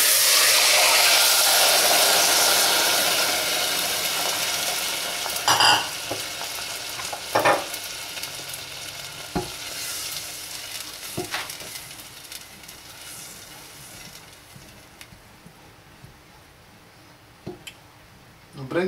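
Chopped leeks frying in a pot for pumpkin leek soup give a loud, steady sizzle that slowly fades, with stirring clatters and scrapes scattered over it.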